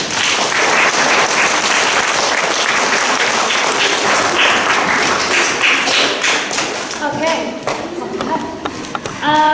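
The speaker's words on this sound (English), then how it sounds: "Let's give her a round of applause" Applause from pupils at a school assembly, a dense, steady burst of clapping filling the hall, thinning toward the end as an adult voice begins speaking over it.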